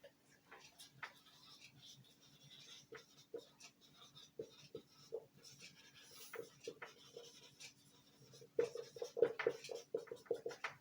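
A pen scratches notes onto paper in short, faint, irregular strokes and taps during a maths lesson, quiet and close, with small pauses between bursts of writing.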